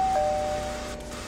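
A single electronic doorbell chime in the Roblox game Redcliff City RP, a clear sustained tone ringing alone and fading over a second.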